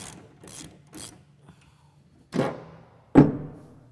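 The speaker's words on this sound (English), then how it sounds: "Taking your T55 Torx, you're going to go ahead and remove these bolts from both sides." Several short ratcheting bursts from a T55 Torx driver removing bed bolts on a 2014-2021 Toyota Tundra, three quick clicks followed by two louder, sharper bursts, close and alone.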